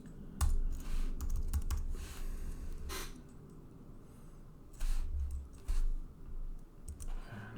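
Irregular bursts of keystrokes on a computer keyboard, close and fairly quiet, clustered in short runs with pauses between them, no voices present.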